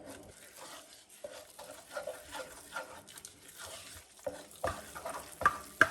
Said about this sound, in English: We just want to mix it so it doesn't have any lumps.